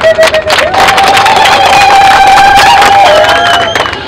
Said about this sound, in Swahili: jipigeni makofi mengi sana